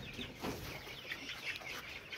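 Chickens clucking in a village poultry farm in Khagrachhari, Chittagong, with soft overlapping clucks and rustling across a continuous, noisy farmyard background.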